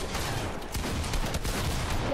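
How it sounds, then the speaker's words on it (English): Rapid, overlapping gunfire in a Fortnite ranked match: a dense, steady burst of shots that runs loud and continuous for about two seconds, with no voices over it. "Who shot me in the back?"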